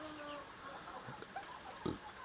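Free-range village chickens in a galvanized battery cage, a few faint, scattered clucks over a quiet background hiss, with one louder cluck near the end.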